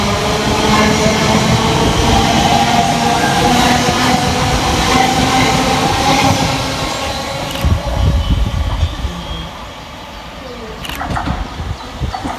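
A Class 345 Elizabeth Line electric train arriving at Brentwood station on the Great Eastern Main Line, its loud rolling rumble and wheel noise steady for several seconds before easing off, then building again near the end.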